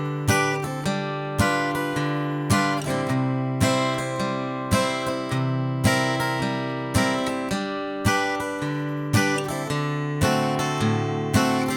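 Country guitar plays a verse of a song with a small variation at the end, steady bass notes alternating with strummed chords in an even, bouncy rhythm, alone and clear.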